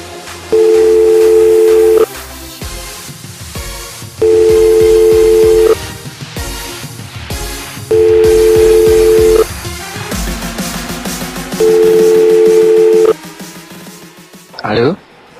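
Telephone tones while a call is placed, four long steady tone bursts spaced evenly over loud background music, ending with a short sharp click.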